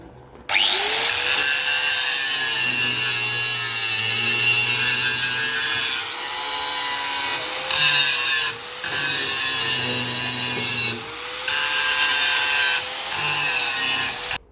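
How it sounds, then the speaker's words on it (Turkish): Steady, loud scraping and grinding as weld spatter is cleaned off a welded metal separator, running almost continuously for many seconds with brief pauses and a slightly wavering pitch. "bu kaynak çapaklarının bu şekilde temizlenmesi gerekiyor"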